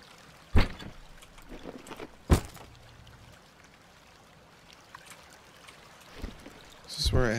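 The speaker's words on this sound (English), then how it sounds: "Alright, so this is the river." Flowing river water in the horror video game Inunaki Tunnel: a quiet, steady trickling wash running beneath a few sharp knocks and thuds, with a louder burst of splashing near the end.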